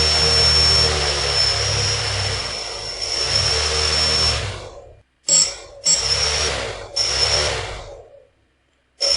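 Motors of an Arduino-controlled bicopter drone driven at maximum speed give a loud, close, continuous high-pitched whine and roar, then cut out abruptly several times in short bursts separated by silence.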